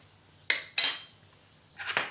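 Metal spoon clinking against a dish while stirring horseradish and chilli sauce, three or four quick bright scrapes and taps, close and clear with no talking.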